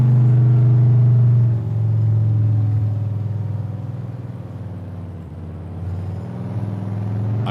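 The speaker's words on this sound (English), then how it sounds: "when I'm this close, man, this truck is just loud" A loud truck engine drives close by during oat and grass planting work, a heavy low rumble that holds steady and eases slightly as it rolls on, with no talking.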